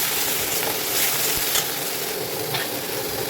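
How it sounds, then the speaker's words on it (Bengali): Spice paste with Kashmiri chili fries in a pan with a dense, continuous sizzle, close and fairly loud, with faint scraping stir strokes surfacing now and then. "আর এটা 1 চামচ কাশ্মীরি লঙ্কা দিয়ে মশলাটা ভালো করে কষিয়ে নিই।"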